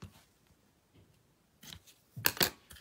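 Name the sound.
scissors cutting craft pieces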